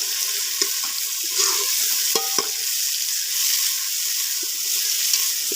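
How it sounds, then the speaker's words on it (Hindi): Tomatoes and green chilies fry for chicken karahi, a steady close sizzle with a few clinks and scrapes of a spoon stirring the pan, no voices over it. "अब इनको थोड़ा फ्राई करेंगे।"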